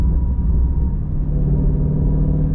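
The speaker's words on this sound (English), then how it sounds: "I can't get over how good it sounds" A 2017 Ford Mustang Shelby GT350 engine rumbles close by with a deep, steady idle, loud and continuous with no other sounds.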